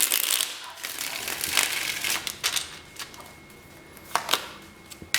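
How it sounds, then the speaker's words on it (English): Tarot cards being shuffled by hand, a run of crisp riffling bursts and soft papery slaps at an uneven pace, close up, with no talking. "One more shuffle."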